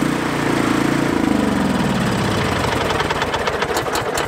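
A Troy-Bilt Bronco riding lawn mower engine cranks, catches and settles into a loud, close, chugging run with a rapid knocking pulse, with no talking.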